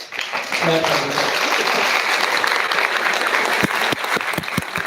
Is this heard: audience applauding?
yes